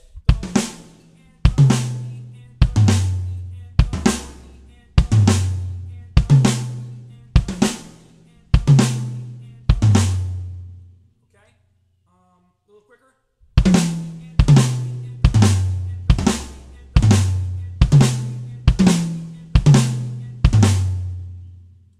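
Drum kit pattern with the right hand travelling around the kit: a steady run of sharp, loud tom-like hits in a regular rhythm, pausing for about three seconds midway before resuming, played alone.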